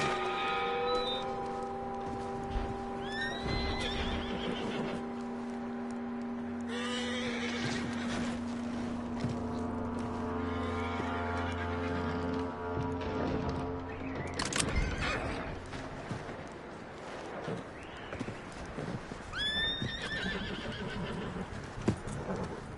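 A horse whinnies repeatedly amid clopping hooves in a PS4 video game, with steady droning tones running underneath throughout.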